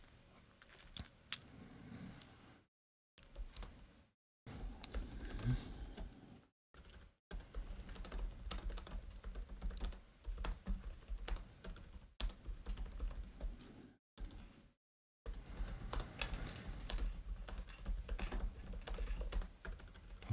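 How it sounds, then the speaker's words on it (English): Furious typing on a computer keyboard, rapid clattering bursts of keystrokes close to the microphone, broken by short silent gaps, fairly quiet overall. "Apologies if you can just hear my furious typing."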